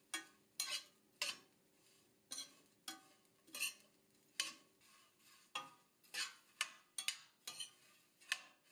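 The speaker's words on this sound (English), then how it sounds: "Stir for a few minutes, add a little oil, and stir until the bread is dry." Bread stirred with a utensil in a heated pan with a little oil, giving repeated sharp scraping strokes at an irregular pace, each with a short dry rustle, close and fairly quiet with no voices.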